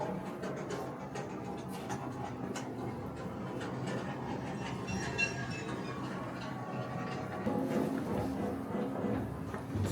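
A passenger train rumbles along the rails with a steady low roar and faint rhythmic clicking, heard from inside the carriage.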